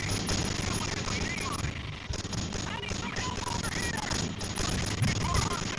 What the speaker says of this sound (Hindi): ये देखिए मिसाइल मार दिए